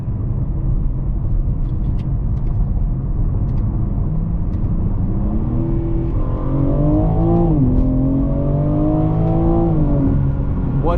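A 2025 BMW M3 Competition pulling hard in second gear from a 40 mph roll, engine note rising steadily and loudly from inside the cabin, with a brief dip before climbing again.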